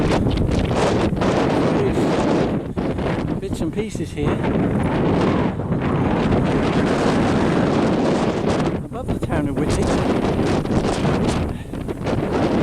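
Strong gusty wind on a hilltop at Whitby Abbey buffets the microphone continuously, roaring and rumbling, while a person talks underneath it.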